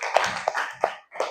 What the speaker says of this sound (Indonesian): Oke, tepuk tangan dulu untuk kelompok